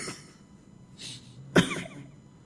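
A single sharp cough at close range, preceded by a faint breathy throat sound, with quiet room tone before and after.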